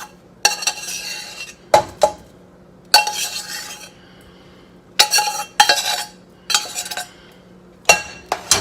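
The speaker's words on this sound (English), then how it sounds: "Give it a little stir" A utensil scrapes and clinks against a pan as cooked rice is stirred into curry paste, in repeated bursts of scraping and knocking separated by short pauses, with a low steady hum underneath.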